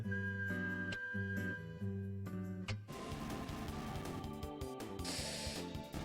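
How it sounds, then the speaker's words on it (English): The whistled theme from Deadly Premonition plays as a clear, sustained tonal melody over soft backing, then gives way to denser, busier music partway through. "Deadly Premonition whistle theme"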